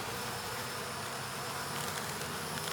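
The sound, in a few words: honey bees buzzing at the hive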